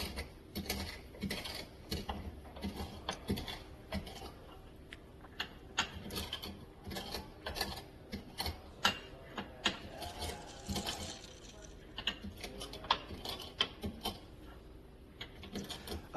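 Seeds being cracked open for a cannabis cocktail syrup, giving a steady run of small, sharp crunching and clicking sounds close up, with no talk.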